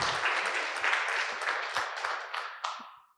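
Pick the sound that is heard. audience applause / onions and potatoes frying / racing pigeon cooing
audience applause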